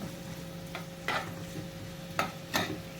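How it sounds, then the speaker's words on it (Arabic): Liver and gizzards being sautéed with onion in a pan: a steady low sizzle underneath, broken by a few sharp scraping stirs of the utensil, close and fairly quiet. "وانزل عليها بقى كده بالبصل. اشوحها كده بس تشويحه كده."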